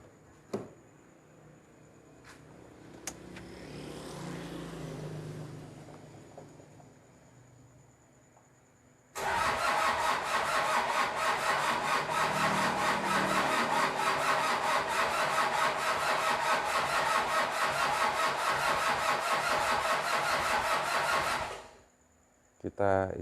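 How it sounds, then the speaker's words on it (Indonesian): A Toyota Kijang 2L diesel engine cranks on its starter in one long, loud, steady grinding run lasting about twelve seconds, then cuts off abruptly, with faint workshop noise before it. "untuk penyalaan pastinya panjang karena dari mesin diesel atau solar ini naiknya agak lama"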